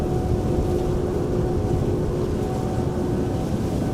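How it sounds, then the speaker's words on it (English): A steady, broad jet engine roar from a departing airliner at Amsterdam Schiphol Airport holds throughout, with a faint tonal whine riding on top, like distant engines building. "you can hear the engines already."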